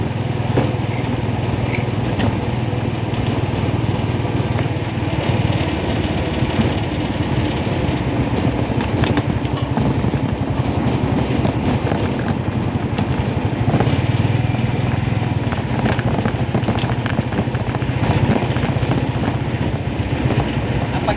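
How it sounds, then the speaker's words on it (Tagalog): A car engine hums steadily during driving practice, a continuous mid-level drone with road rumble and faint rattles, no clear talking. "Paminawan mo makina ba?"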